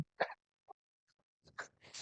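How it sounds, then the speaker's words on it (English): A couple of short, sharp coughs close to the microphone, separated by brief silences, followed by a breathy throat sound. "Sorry about the coughing, guys."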